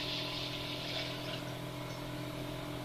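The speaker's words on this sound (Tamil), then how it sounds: "தண்ணி சேர்த்துக்கலாம்." Water pours steadily into a pot of washed toor and moong dal being readied for dal sambar, a continuous close gushing fill with a bright splashy hiss that eases slightly toward the end.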